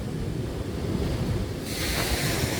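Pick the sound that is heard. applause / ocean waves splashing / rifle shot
ocean waves splashing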